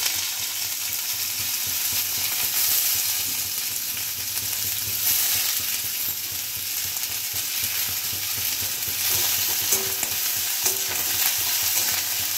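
Radish pieces fry with nigella seeds in oil in a kadai, giving a continuous even sizzle with soft stirring scrapes, close and without talk.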